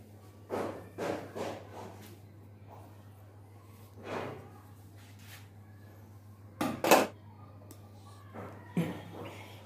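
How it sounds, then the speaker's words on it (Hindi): Fresh coriander being finely chopped with a knife on a board in a home kitchen: scattered, irregular sharp knocks and short bursts of cutting, some close and louder, over a steady low hum. "हरा धनिया काट देंगे"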